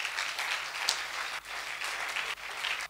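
A church congregation applauds with steady, dense clapping that carries on without a break and swells slightly, with no voices over it.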